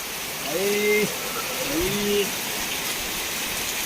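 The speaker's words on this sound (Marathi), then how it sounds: "एकदम मुसळधार पाऊस आलाय" A heavy monsoon downpour in rural Ratnagiri, Konkan, roars as a steady dense hiss heard from a shop, while voices talk briefly over it.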